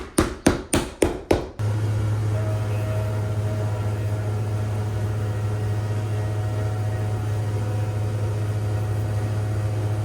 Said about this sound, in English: what you saw in the last scene is us carving a channel for the stitching on the sole to sit countersunk into the sole